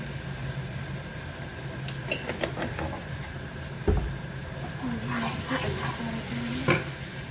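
Garlic sizzles gently in a hot pan while a utensil scrapes and stirs, with a few sharp clinks and a brief hiss of rising sizzle.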